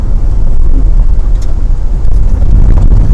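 A 2023 Toyota Sequoia TRD Pro drives off-road in 4 high at moderate speed, giving a loud, steady low rumble of engine, tyres and buffeting wind with no pauses.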